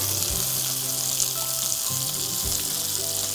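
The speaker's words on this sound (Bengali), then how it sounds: "প্রথমে আমরা বাটারটা ফ্রাই প্যানে দিচ্ছি।" Butter sizzles steadily and loudly in a hot frying pan, a continuous crackling hiss with a few low knocks underneath.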